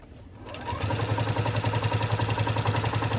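A sewing machine starts up and runs at a steady fast pace, a rhythmic close mechanical whir and clatter that builds in the first half second and then holds even.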